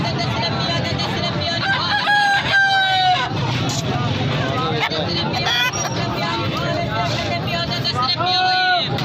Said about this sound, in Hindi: देसी असील मुर्गी